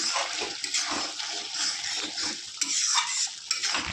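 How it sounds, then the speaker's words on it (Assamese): Ghee stirred through jackfruit masala in a pan, a busy close-up clatter of a spoon scraping and knocking the metal over a wet, bubbling hiss, steady and unbroken. "এয়া প্ৰায় 1 চামুচমান ঘি দি দিছোঁ মই, ধুনীয়াকৈ লৰাই দি"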